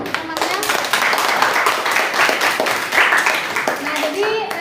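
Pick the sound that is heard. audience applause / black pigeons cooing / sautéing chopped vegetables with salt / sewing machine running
audience applause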